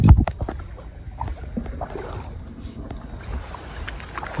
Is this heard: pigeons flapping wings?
no